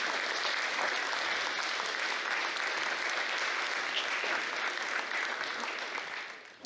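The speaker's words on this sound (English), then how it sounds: "let's do it again, to give a round of applause to each and every student who's got it" A school audience gives a sustained round of applause for students at an invention convention, with dense even clapping that holds steady and begins to fade at the very end.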